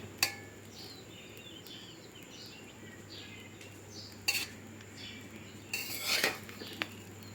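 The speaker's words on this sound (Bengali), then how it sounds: "অনেকটা সর্ষে হয়ে গেছে বন্ধুরা, তাই নাড়তে অসুবিধা হচ্ছে" A metal spoon scrapes and clinks against a pot of mustard seeds being stirred on a gas stove, with a few sharp knocks and scraping bursts spaced apart over a low steady hum.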